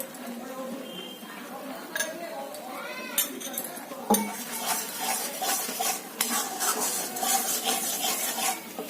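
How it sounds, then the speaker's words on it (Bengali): A metal spatula stirs thickening homemade rabri in a pan, with scraping strokes, occasional clinks against the rim and a soft sizzle, while someone talks over it nearby. "আমার খুন্তি যখন আমি নাড়ছি তখন আমি নিজেই বুঝতে পারছি যে এটা আমার বেশ থকথকে হয়ে এসছে"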